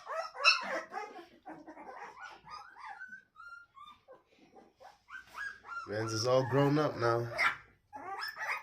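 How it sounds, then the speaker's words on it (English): Pit bull and American bully crossbreed puppies yip, whimper and bark close by, with high thin whines early and a louder burst of barking in the latter half, mixed with a person speaking. "Barking, eyes open."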